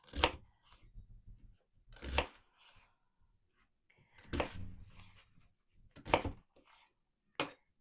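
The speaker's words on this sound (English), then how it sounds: "And I'm just going to chop them into pieces." Onion being chopped into pieces with a knife on a cutting board while making a Mexican beef fajita rice dish, heard as five sharp, close chopping strikes spread out unevenly with quiet gaps between them.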